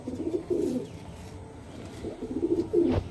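Desi high-flyer pigeons cooing in a loft, two short bursts of soft, throaty coos heard up close with a quiet pause between them.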